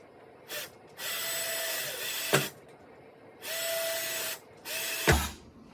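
Power drill boring holes into a plastic rain barrel, three bursts of whining motor sound with pauses between, each ending in a sharp crack or clunk as the bit punches through, close and fairly loud.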